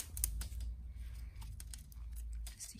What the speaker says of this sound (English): I'm going to just take the protective covers off,